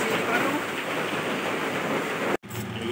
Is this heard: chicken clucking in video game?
no